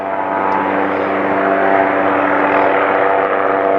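A helicopter hovers overhead while two men dangle beneath it in a bosun's chair replacing orange marker balls, its steady loud engine and rotor drone constant throughout.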